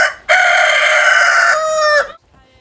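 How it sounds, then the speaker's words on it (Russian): A neighbour's rooster crows once in the countryside, a single loud, close, drawn-out cock-a-doodle-doo lasting nearly two seconds before quiet returns. "просыпаешься от того, что соседские"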